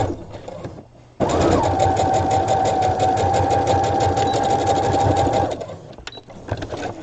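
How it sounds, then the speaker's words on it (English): Sewing machine running a straight stitch with a back stitch on a doll peasant top, one long steady close whir after a brief start, then stopping with a few small clicks. "This is that straight stitch."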